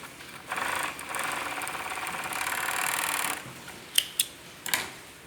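Sewing machine stitching men's boxer shorts, a steady whirring run for about three seconds, then stopping, followed by a few short sharp clicks and bursts.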